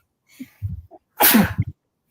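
A single loud sneeze bursts out, preceded by a few short sniffly breaths, then silence.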